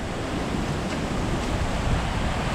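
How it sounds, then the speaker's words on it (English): Strong, steady storm wind roars close to the microphone with broadband rushing and slight surges of gusts throughout, no voices. "it's getting close to really damaging winds"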